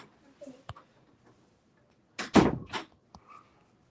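A door swinging shut indoors in a home with a dog, a sharp thudding slam followed by a short rattle, with faint clicks and small knocks before and after in an otherwise quiet room.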